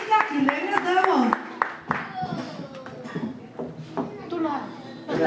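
Crowd applause and scattered claps for a singer at a live band show, mixed with cheering voices and children talking throughout.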